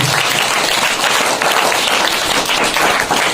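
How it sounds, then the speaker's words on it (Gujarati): Applause at a school farewell ceremony for departing eighth-grade students, a room full of people clapping loudly and steadily for a few seconds to welcome a book being presented. "મિત્રો તાળીઓના ગણગણાટ સાથે આ બુકને વધાવીશું."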